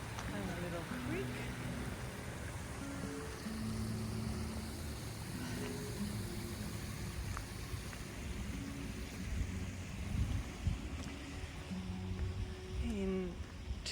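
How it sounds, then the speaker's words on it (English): A creek flows with a soft, steady rushing wash heard at low level, running continuously beneath intermittent speech throughout. "Creek."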